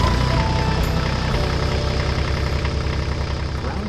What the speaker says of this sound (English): Let's see if our little tractor will start now.